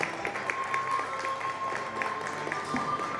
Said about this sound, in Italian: Un applauso per favore,